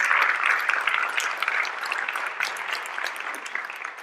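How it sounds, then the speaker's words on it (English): Audience applause for a speaker at a tenth-anniversary panel discussion, a dense round of clapping that runs throughout and slowly tapers off toward the end. "Could we have another round of applause for David Bakunle?"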